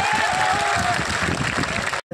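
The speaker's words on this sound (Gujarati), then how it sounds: "આ જામનગરના કરંટને તાળીઓથી વધાવો" A crowd at a political gathering in Jamnagar breaks into applause, a brief burst of dense, loud clapping with some crowd noise, ending in a sudden cut.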